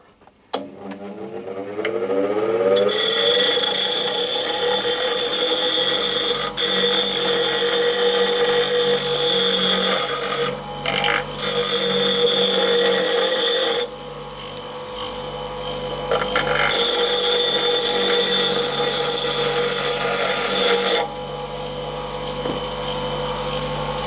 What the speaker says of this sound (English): dress the corner of this wheel around to about the same radius as this, and we'll use that to clean up the grinder